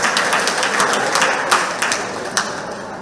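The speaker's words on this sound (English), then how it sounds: "Give a little clap." Steady applause from a group at a community centre meeting, a dense patter of clapping with a few sharper claps standing out, continuous throughout.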